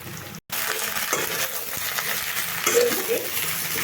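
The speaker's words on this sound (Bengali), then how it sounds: "এই ঢ্যাঁড়সগুলোকেও আমি এখন ভাজবো পেঁয়াজগুলোকেও একসঙ্গে ভালোভাবে ভেজে নেব" Okra and onions frying together in a pan give a steady, close sizzle with stirring scrapes, broken by a brief drop into silence near the start, then crackling at an even level throughout.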